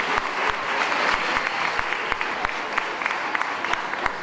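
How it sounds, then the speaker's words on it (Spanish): An audience at an event claps to welcome a philosopher, steady loud applause filling the room from start to finish. "Recibimos con un fuerte aplauso al filósofo Darío Stanrachberg"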